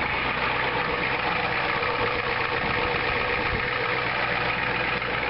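Diesel engine with a DB2 injection pump, its solenoid disabled, idles at a steady, even rumble close by with no speech.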